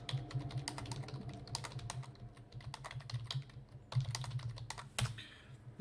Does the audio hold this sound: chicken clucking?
no